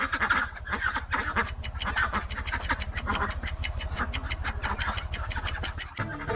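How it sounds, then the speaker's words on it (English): A farm duck quacking in a rapid, steady run of loud, close calls that continues for several seconds with little pause. "It's a duck."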